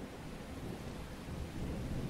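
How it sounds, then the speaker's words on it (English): A thunderstorm fills the space with a low, continuous rumble of thunder mixed with steady rain, a dense unbroken wash of sound that swells slightly toward the end, with no voices. "Even thunder is good."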